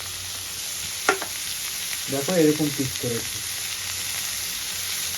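Vegetables fry in a pan with a constant, close hiss and crackle, while someone speaks briefly over the sizzle.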